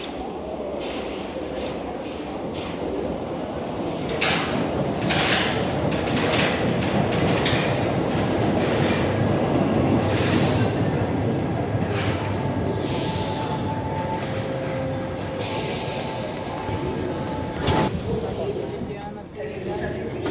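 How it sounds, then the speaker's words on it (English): A Paris metro train rumbles steadily through a station for a long stretch, with rattling and clanks over the dense mechanical noise. "Now just wait 3 minutes for the next train."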